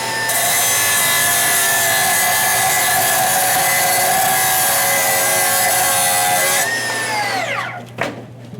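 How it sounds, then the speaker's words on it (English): A Milwaukee M18 cordless saw cuts through 5/8 inch rebar with a loud, continuous grinding rasp lasting several seconds, then the motor winds down and stops with a final clunk. "this tool's gonna be able to do about 70 cuts in 5/8 inch rebar"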